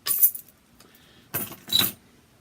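Close-up metallic clicks and a sharp clink as a beer bottle cap, a Lagunitas Night Pils, is popped off with a coin on top, three quick bursts separated by brief quiet.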